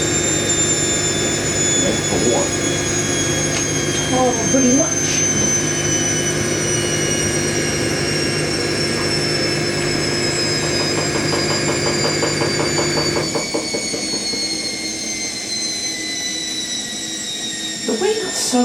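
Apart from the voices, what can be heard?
Indesit IWC71452 washing machine spin slowing down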